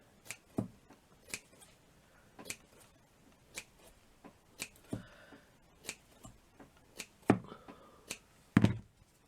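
Scissors make crisp, repeated snips while cutting material for a tussie mussie. The cuts come close up in an uneven rhythm, about one every second, with faint rustling in between.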